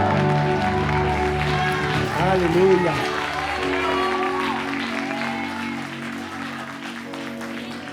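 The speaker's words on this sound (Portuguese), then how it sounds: "Uma salva de palmas para esse Deus maravilhoso." A church congregation applauding, a broad wash of clapping and crowd noise that swells and then slowly fades, with voices speaking and calling out over it.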